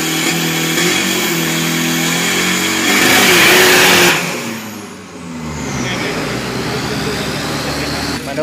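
A turbocharged car with a 40.5 turbo inlet revving hard and accelerating on a 402 m drag strip, a loud engine roar building then dropping away, with a voice talking over it.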